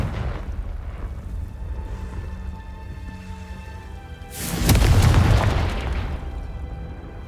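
Confringo explosion spell cast in the video game Hogwarts Legacy, one loud booming blast that bursts in midway through and fades slowly over a low ambient background.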